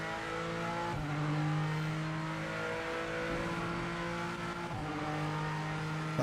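A race car in a racing video game revs hard against its rev limiter, the steady engine drone broken by sharp cutting stutters and pitch drops, loud and continuous throughout with faint tyre noise beneath.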